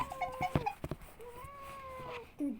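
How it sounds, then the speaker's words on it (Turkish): A cat meows in drawn-out, wavering cries, fairly faint and close, with scattered thumps and background noise around it, as someone calls for it to be chased away. "Şu kediyi şuradan kovalayın."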